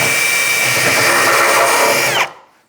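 A step drill bit bores a 3/4 inch hole during a cabinet installation, a loud steady whine lasting about two seconds before the drill stops abruptly and the sound trails off.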